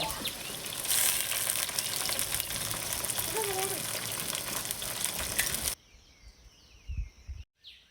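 Soaked chicken going into a pan of softened onions for gongura chicken, a dense loud sizzle that fills the first few seconds before dropping away to quieter handling sounds.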